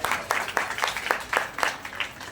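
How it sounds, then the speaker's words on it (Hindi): Small crowd gives a short burst of light, scattered applause for a young girl at a religious gathering, a couple of seconds of quick overlapping claps at moderate distance. "बच्चों की ताली बजवाओ"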